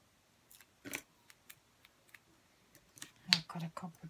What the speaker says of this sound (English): I'll cut a couple of pieces.